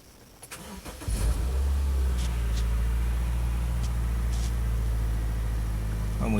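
A 2012 Subaru Outback 2.5 liter engine cranks briefly and starts, settling into a steady, close idle with a low, even rumble.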